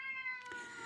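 A cat lets out a short meow, faint and somewhat distant, over a quiet background with a steady high electronic whine.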